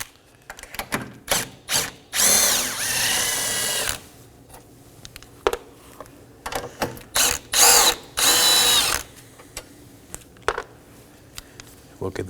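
A power tool buzzes in two long bursts on 10mm nuts and a bolt holding a bracket during radiator work on a 2015-2023 Nissan Maxima 3.5L V6, between short clicks and clanks of handling, with a voice talking.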